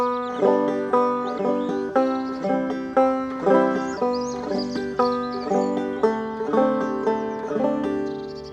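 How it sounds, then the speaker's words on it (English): Banjo played with a frailing strum, a bright steady rhythmic brushing of chords and notes carrying a simple tune, close and clear, with no voices. "So normally it probably sounds something like this using the basic frailing strum."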